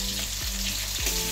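Fish sizzling in oil in a wok in a home kitchen, a steady broadband hiss with a few soft stirring knocks, close up and without talk.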